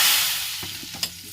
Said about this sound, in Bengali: এই যে তেলে এটা ফুটছে